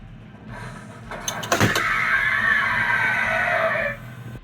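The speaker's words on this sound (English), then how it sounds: "it sounds like a screechy alien" A life-size animatronic Xenomorph alien gives a harsh, drawn-out mechanical screech with a creature-like rasp, preceded by a few clattering clicks, sustained loudly for a couple of seconds before cutting off.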